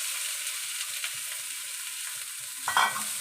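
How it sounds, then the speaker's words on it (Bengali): Radish pieces fried and stirred in a pan, a soft steady sizzle with faint scraping of a spatula, then a brief louder clatter and scrape near the end; no talking. "দিয়ে একদম নাড়াচাড়া করে দিয়ে দেবো মূলোগুলো।"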